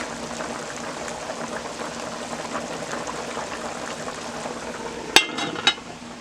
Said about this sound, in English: I'm just going to cover my pot and let it continue to cook.